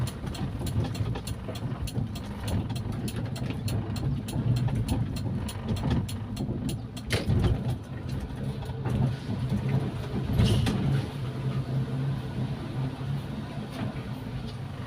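A Toyota Kijang with a carbureted engine runs at a steady idle, a continuous low rumble with a few brief mechanical clatters and a louder knock near the end.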